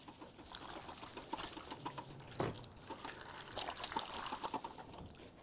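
Fluids draining from a removed Porsche Macan 3.0 twin-turbo V6 engine as it is rotated over, a continuous trickling pour with drips and faint clunks, fairly close.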